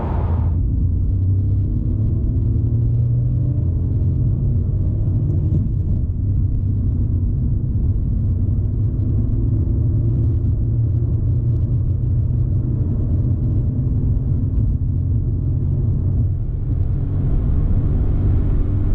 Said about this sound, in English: manual Seat Ibiza does on the 30 to 70 sprint